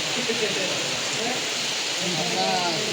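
Heavy monsoon rain on the road from Jogeshwari to Raigad falls as a steady, dense hiss, continuous and fairly loud, with a voice talking faintly beneath it.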